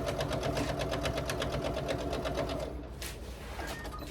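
Sewing machine stitching steadily across a fabric seam, a close, fast rhythmic mechanical whirr and needle clatter running continuously, easing slightly toward the end.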